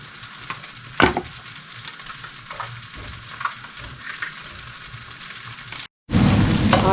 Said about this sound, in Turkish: Tereyağı, sıvı yağ koydum. Biberleri kızartacağım.